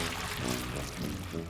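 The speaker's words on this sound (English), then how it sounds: "Let's pour that in there." Cleaning liquid poured into a pot in the adventure video game The Book of Unwritten Tales, a brief steady liquid gurgle against a soft background bed.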